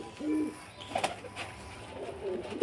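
A pigeon in a loft coos in a few soft, low, rounded phrases, with quiet gaps between them and light background noise.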